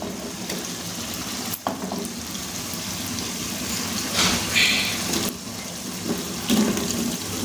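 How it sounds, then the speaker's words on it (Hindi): Potatoes and peas fry together in a cooked tomato masala, giving a steady soft sizzle with a few louder stirring scrapes and clatters, no talking. "हम इनको एक साथ फ्राई करेंगे और अच्छे तरीके से इनको फ्राई करेंगे"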